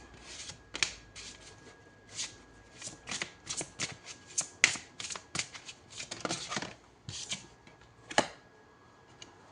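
Tarot cards are shuffled in a rapid series of crisp riffles and flicks, close and fairly quiet, with short pauses between bursts. No voice is heard.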